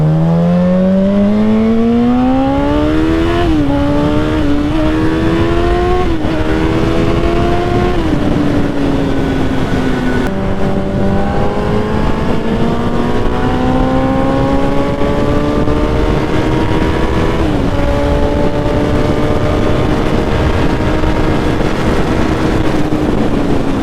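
A motorcycle on a cold-weather ride accelerates hard through several gears, its engine pitch climbing and dropping at each shift, loud and close under steady wind noise, with no talking.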